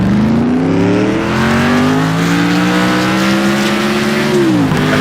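A car engine revs hard and climbs through gears in a racing video game, set in Tokyo, with a steady loud roar and a brief dip as it shifts near the end.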